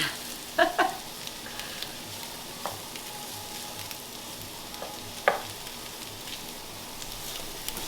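Onions and pork with fatback fry in a pot for Boston baked beans, a soft steady sizzle broken by a few sharp spoon clinks and scrapes against the pot.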